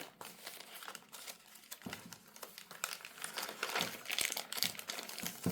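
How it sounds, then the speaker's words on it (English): Sheets of aged tracing paper crinkle and rustle in repeated handling bursts, close and fairly quiet, building in density toward the end with no voices. "I printed on this tracing paper and aged that up, and gives you that nice crinkly sound."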